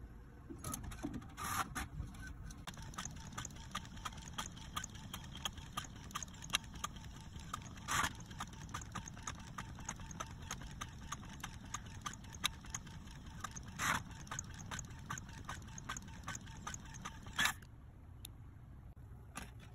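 A printer runs steadily with rapid mechanical clicking and periodic louder clacks as pages feed through, close by.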